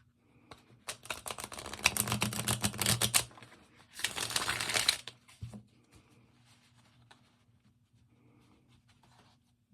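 Tarot cards riffle and slap together in two bursts of rapid, crisp fluttering, the first longer, then quiet handling noises.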